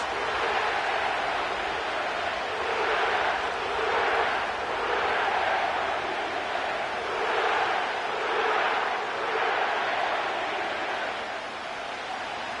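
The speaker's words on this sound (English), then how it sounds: "The crowd is definitely ready." A big stadium crowd roars inside the Caesars Superdome in New Orleans in EA Sports Madden, a steady swelling wash of cheering that rises and falls in waves throughout.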